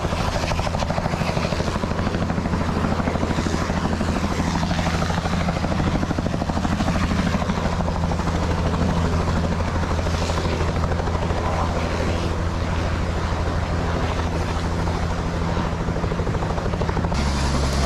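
A helicopter drones continuously with a steady low rotor thrum and engine whine, loud and close, with no voices.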